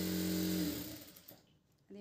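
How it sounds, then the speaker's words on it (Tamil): Sewing machine stitching blouse pieces together, a steady close whir for under a second that winds down to quiet, then briefly restarts at the end. "இந்த 3 பிட்டுமே ஒன்றா வச்சு இது ஒரு தையல் போட்டுக்கலாம்."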